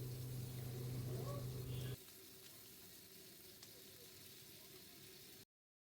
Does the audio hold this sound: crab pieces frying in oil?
yes